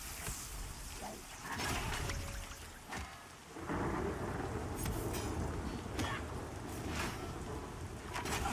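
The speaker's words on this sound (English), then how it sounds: "The rain effect is really cool in this game." Rain and thunder in a video game, a steady wash of falling rain with repeated rumbling thunder rolls throughout, fairly quiet, and faint talk underneath.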